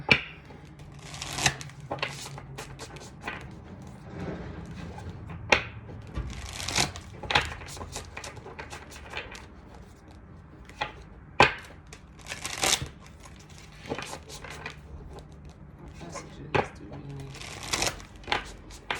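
Black Moon astrology cards being shuffled in repeated riffling bursts, crisp and close, with a voice speaking between them.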